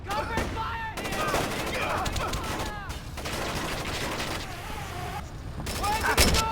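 Rapid bursts of covering gunfire from the 2005 stealth game Splinter Cell: Chaos Theory, crackling in dense volleys with short gaps, mixed with game voices and effects.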